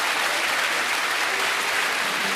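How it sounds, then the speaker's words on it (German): A studio audience applauds on a Swiss cooking show. Dense, even clapping from many hands fills the whole stretch at a steady, fairly loud level, with no talk over it. "Heidi, das ist dein Applaus"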